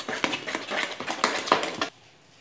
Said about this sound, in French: si vous avez un fouet, de préférable vous mélangez avec un fouet